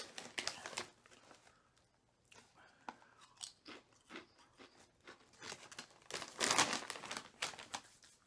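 A bag of Ruffles All Dressed chips crinkles in bursts as a hand digs down inside, close and fairly quiet, with brief crunchy rustles between short pauses.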